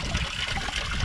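Mountain spring water trickles near a glacier-fed lake on the Großvenediger normal route, a continuous close splashing burble with no voices.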